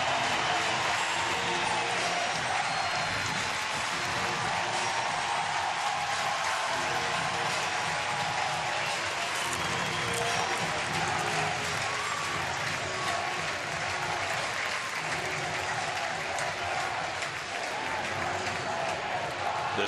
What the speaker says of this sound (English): This crowd has cheered every moment from the time that David first came out for batting practice today.